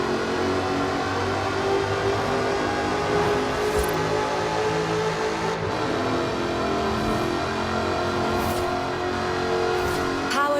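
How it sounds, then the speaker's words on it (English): A supercharged 5-litre V8 engine in an aluminium-bodied Jaguar in Forza Horizon 4 roars steadily and loudly, rising and falling as it revs, with a few brief shifts in pitch. "Powered by a 5-litre V8 supercharged engine, with a fully aluminium body, it's blisteringly fast"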